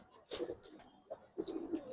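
Giribaz silver pigeons coo softly in short, faint bursts, a few soft calls close by with quiet background between them.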